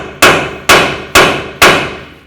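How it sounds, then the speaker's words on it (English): Four loud, evenly spaced hammer blows ring out on a metal ball joint press, fitting a front lower ball joint on a Ford Expedition, each strike followed by a short ringing decay. "give this a couple loving bonks with your hammer"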